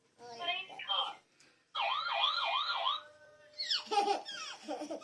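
A toy police car siren from a children's sound card plays a loud wailing, rising-and-falling tone for about a second, set between bursts of a child's laughter and other electronic toy sounds.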